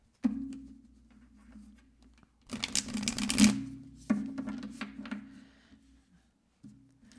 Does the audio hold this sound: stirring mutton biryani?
no